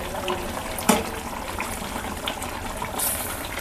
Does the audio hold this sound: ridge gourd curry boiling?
yes